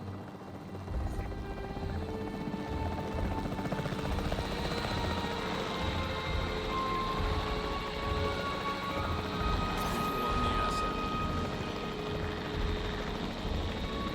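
A capture team helicopter in Jurassic World Evolution hovers steadily with a continuous rotor drone and engine whine, loud and close throughout, with no talk over it.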